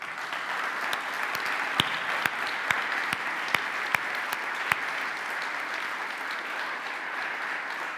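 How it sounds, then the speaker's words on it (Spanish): A church congregation claps steadily in praise during a Spanish-language sermon, a continuous even wash of applause with a few louder individual claps popping out near the front. "Le damos un aplauso a Él."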